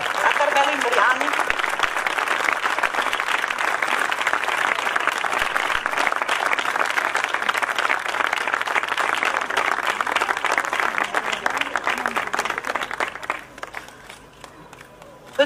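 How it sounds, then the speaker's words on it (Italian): Sustained applause from an audience at an award ceremony honouring a sports figure, dense steady clapping filling the room for about thirteen seconds before thinning and fading, with some crowd murmur mixed in. "Potete continuare ad applaudire, perché Carmelo si è diventata tutti questi applausi."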